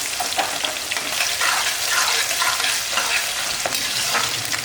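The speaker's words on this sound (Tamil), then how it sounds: "பாருங்கள் வெங்காயம் இந்த அளவுக்கு நல்லா வதங்கிடுச்சு." Small round-cut onions sautéing in a pan for a spicy gravy, a loud continuous sizzle with busy stirring and scraping throughout, close and dense, without any voices.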